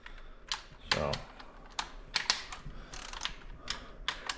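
A ratchet wrench works on 10 mm bolts on a 1999 Mazda Miata engine during a valve stem seal job, giving several short, sharp ratcheting clicks and clacks up close.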